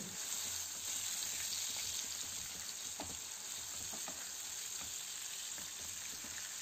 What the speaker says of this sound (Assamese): এতিয়া মই ইয়াতে এড কৰিম মোৰ মেৰিনেট কৰি ৰখা চিকেনখিনি আৰু চিকেনখিনি মই ধুনীয়াকৈ মিক্স কৰি দিম তেলখিনিত